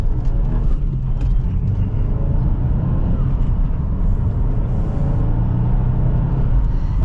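A 2022 Subaru WRX engine accelerating gently, a steady low rumble and drone heard from inside the car with road noise and no sharp revving.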